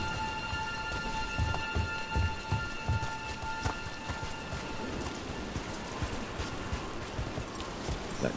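Steady rain falling in the Dragon Age Veilguard video game, a continuous hiss with faint tonal ambience and scattered soft thuds beneath, no talking.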